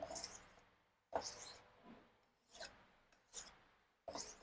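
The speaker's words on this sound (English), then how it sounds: "what I'm doing now is not sharpening the blade. This is called honing the blade." A kitchen knife blade is honed with light, even strokes, producing about six short rasping swipes roughly a second apart, quiet and close, with near silence between strokes.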